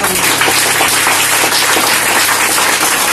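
A church audience claps loudly together, a dense, continuous wash of many hands applauding up close, filling the whole few seconds without any voices above it.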